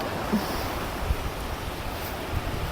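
Sea waves wash steadily onto a beach in Kupang, a broad continuous surf roar mixed with gusty wind buffeting the microphone, close and loud with no break.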